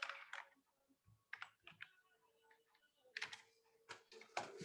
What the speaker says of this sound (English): Let me reposition my keyboard.